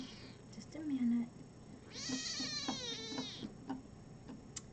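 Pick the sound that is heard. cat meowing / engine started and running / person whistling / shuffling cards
cat meowing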